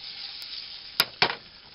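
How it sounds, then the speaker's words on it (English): Soft steady sizzling of Spam frying in a pan, with a couple of brief sharp clicks partway through. "Hear that sizzle?"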